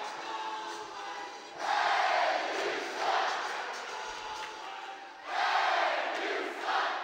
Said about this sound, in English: And the crowd is back.